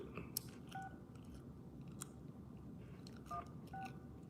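Phone keypad tones beep in short bursts, a few separate presses spaced across a few seconds, quiet and close over faint rustling and clicking handling noise.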